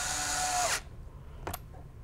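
A power drill whirs at high speed driving a screw, cutting off abruptly after under a second, followed by a brief sharp click or tap, close and loud in a quiet room.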